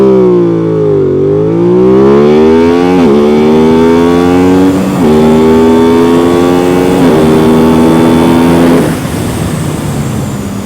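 An Aprilia RS 660 or CFMOTO 675SR-R sport motorcycle accelerates hard from 0 to 100 km/h, the loud engine note climbing steadily through three quick upshifts before backing off near the end.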